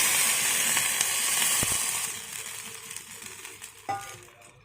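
Green mango chutney with turmeric is stirred in a pan, a soft frying hiss with light scraping and a few utensil taps that fade as the heat settles.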